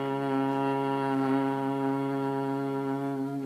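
A steady nasal hum on one held pitch, continuous and fairly loud for a few seconds, with no words.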